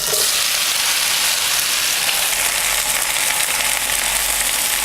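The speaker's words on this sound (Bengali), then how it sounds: "এই পর্যায়ে আমি দিয়ে দিব এতে পূর্বে থেকে যেই ঢ্যাঁড়সগুলোকে আমি ম্যারিনেট করে রেখেছিলাম সেটা" Okra, marinated for about half an hour, fries in hot oil without onion or spices, giving a dense, even, loud hiss that holds unbroken throughout, with no talking.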